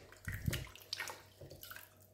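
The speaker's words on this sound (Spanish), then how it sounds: "Lo primero que tenemos que hacer es lavar muy bien la verdolaga" Purslane greens rinsed under running water in a kitchen for a purslane tortilla, with splashing and gurgling that rises and falls in uneven bursts, moderately quiet and close, no talking.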